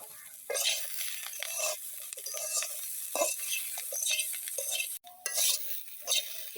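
Malabar spinach and chopped onion frying in a pan, with a steady soft sizzle under repeated scraping stirs of a utensil against the pan, close and fairly loud, no talking.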